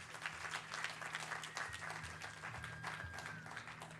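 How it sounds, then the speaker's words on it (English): Sustained applause from an audience at a hospital medical conference on ICU infection control in Hyderabad: dense, even clapping that holds steady for the whole stretch with no voices over it. "give her a big hand of applause"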